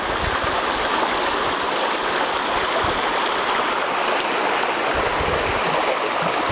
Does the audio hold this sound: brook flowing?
yes